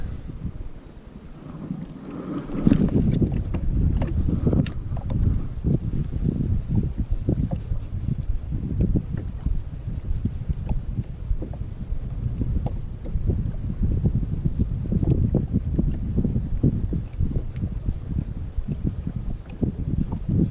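Wind buffets the microphone in a steady low roar on a sea shore, with rushing gusts and faint splashing of water throughout.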